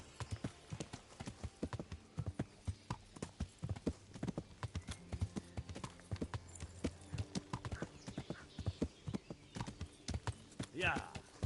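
Horse hooves clip-clop steadily at a riding pace in Kingdom Come: Deliverance, a dense run of close, evenly spaced hoofbeats with a brief whinny near the end, all beneath a voice talking over the game.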